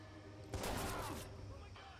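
A short, loud burst of rapid gunfire in the video game Watch Dogs, rattling shots for about a second over a low background hum, fading into quieter game ambience.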